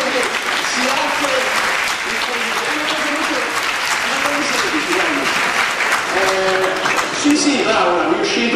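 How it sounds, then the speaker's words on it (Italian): Audience applause at a New Year's Day concert in Nerviano, the clapping dense and steady throughout, with voices and cheers mixed in and a presenter's voice faintly audible over the crowd. "e allora un grande applauso al sindaco che si offre"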